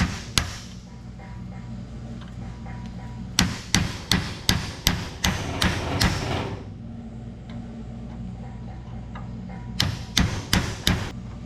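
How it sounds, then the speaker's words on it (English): A hammer drives a chisel against a check pin head on a Chevrolet Tahoe, making sharp, loud metallic strikes in quick bursts of several blows separated by pauses. "I started hitting it with a chisel. I'm just gonna try to chisel the head off of that"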